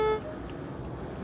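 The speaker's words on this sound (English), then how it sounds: "Braking sounds a horn." A car horn honks briefly, loud and close, as a vehicle brakes in a driving video game, cutting off after a fraction of a second into a low engine rumble.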